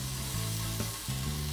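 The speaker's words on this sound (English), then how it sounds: "Hear the sizzle." Japanese Wagyu sirloin sizzles steadily in a hot pan, fat rendering out, a loud continuous hiss with a faint tonal hum underneath.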